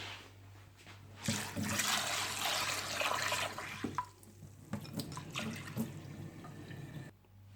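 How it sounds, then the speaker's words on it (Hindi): Chana dal lentils are rinsed in water, giving a steady splashing and trickling rush that starts after a quiet second, with a few sharper clinks and drips and a low hum underneath. "दाल को अच्छी से धो लिया और इसमें ये पानी भी ऐड कर लिया"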